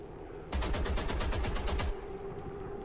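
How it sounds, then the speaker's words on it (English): A rapid automatic burst of about a dozen evenly spaced gunshots rings out in a video game on Nightmare difficulty. It is loud and close, lasts roughly a second and a half, then stops, leaving a steady low background. "Nice sound on that gun."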